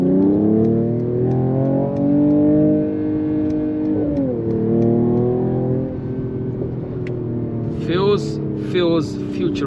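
A 2023 Mercedes-AMG GT 43 4-door coupe's 3-liter inline-6 turbo engine pulling hard under acceleration, a rising engine tone heard from inside the cabin that drops with a gear change, then climbs again, with someone talking over it.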